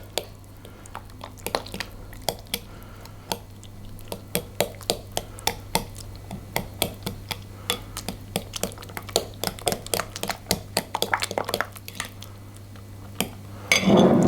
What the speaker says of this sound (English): Just mix all that together to a nice gloopy mass.